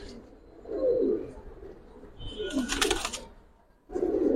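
Giribaz pigeons coo softly nearby in low, throaty bursts, broken by a brief, sharp flurry of wing flapping.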